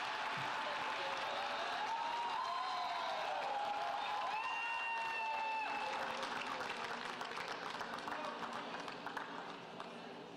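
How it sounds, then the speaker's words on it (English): An audience at a commemoration event for the International Day of Women and Girls of African Descent applauds the Vice President of Colombia, a faint, continuous wash of clapping with some murmuring and brief tonal sounds layered over it. "Big round of applause for the Vice President of the Republic of Colombia."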